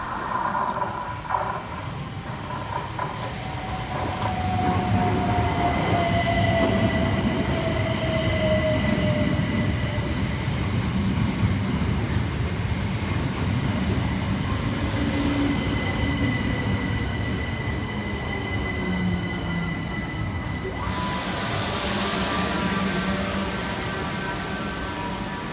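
Two coupled Southern Class 377 electric trains pull into Carshalton station, a loud sustained rumble of wheels on rails with a long falling whine of traction motors and faint squeals as they brake to a stop.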